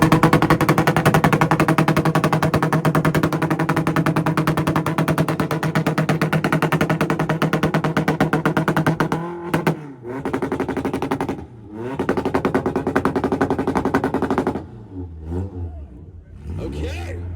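Honda Civic at a two-step rev battle import face-off in Woodburn, Oregon, holding a loud sustained rev against the limiter with rapid popping, then breaking into bursts and drops; a crowd and voices mix in underneath.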